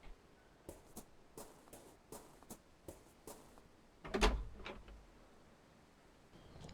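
Door in The Last Door video game: a row of faint regular taps is followed by a louder creak and knock as it opens and shuts, with no voices.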